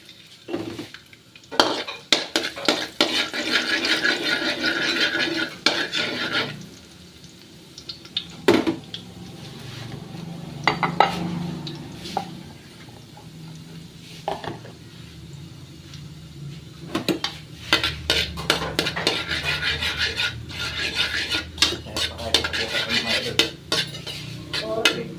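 Garlic being stirred in a cooking pan, with repeated metallic scrapes and clinks of a utensil against the pan in irregular bursts, plus faint frying underneath and no talking.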